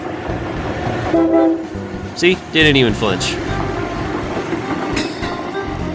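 An Amtrak Acela high-speed train roars past with loud horn blasts and rushing wheel noise, fairly close, as someone speaks briefly over it.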